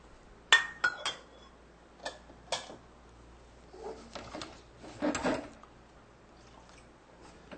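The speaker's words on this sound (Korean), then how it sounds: "냄비에다가요, 쌀을 넣으시고" Soaked rice goes into a cooking pot, heard as scattered sharp clinks and ticks followed by quieter rattling, pouring bursts, all fairly faint.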